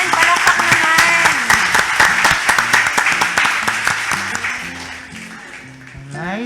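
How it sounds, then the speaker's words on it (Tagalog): An audience in a church main sanctuary breaks into steady, dense applause that runs loud for several seconds before tapering off, with a voice speaking over it near the end. "Ayan, palakpak naman."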